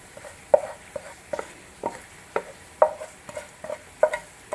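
A ladle stirring tempering into Andhra-style toor dal, a string of soft, irregular scraping and sloshing strokes close by, with a faint sizzle underneath.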